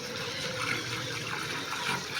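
Rainwater drains quickly from a flooded street lane after heavy rain, making a continuous rushing, gurgling wash that stays loud and steady throughout.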